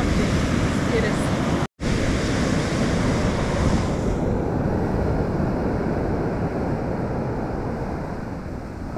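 Baltic Sea waves roar in a loud, continuous rush with heavy wind buffeting the microphone, broken by one abrupt dropout near the start and easing slightly in the second half.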